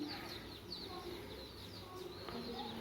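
A chicken with an injured, broken leg, attacked by a dog, clucks softly in short, scattered bursts over steady outdoor background noise, with faint bird chirps nearby.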